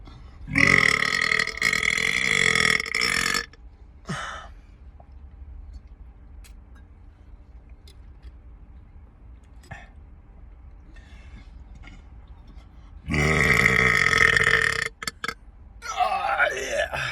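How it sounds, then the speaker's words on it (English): A man lets out long, loud, guttural burps after drinking a milkshake, two big bursts separated by a quiet stretch with faint clicks, with a brief voice at the end. "Milkshake burp."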